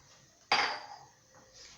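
A metal cooking pot is set down on a stovetop with one sharp clank that rings briefly and fades, quiet and close, before oil goes in to cook briouats with fish.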